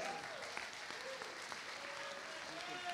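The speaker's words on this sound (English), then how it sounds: "another big round of applause for our parents tonight." Wedding guests applaud steadily at a reception after the speeches, a dense, even wash of clapping from a crowd that holds for the full stretch, with a faint voice or tone threading underneath.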